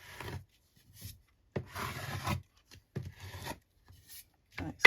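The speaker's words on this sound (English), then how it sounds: "Give it a good burnish." Paper in a handmade altered book is burnished at the page edge with firm rubbing strokes, heard as several close, dry scraping passes separated by short pauses, with no talking.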